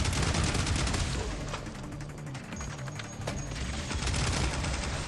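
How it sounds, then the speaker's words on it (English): Sustained video game gunfire aimed at snipers: a dense, continuous roar of rapid shots that stays loud throughout, with only a slight dip in the middle and no talking. "A bit of sustained fire will take out these snipers."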